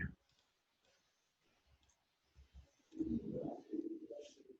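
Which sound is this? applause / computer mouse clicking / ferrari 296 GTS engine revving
computer mouse clicking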